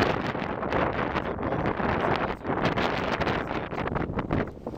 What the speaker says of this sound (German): Also der Wind hier, da sind die Pyrenäen gar nichts gegen gewesen.